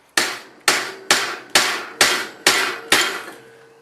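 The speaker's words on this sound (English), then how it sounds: "just got the light hammer here to start with" Seven sharp metallic taps from a light hammer on a Nissan Patrol radius bush, at a steady, unhurried pace, each ringing briefly before the next; close and loud with no talking.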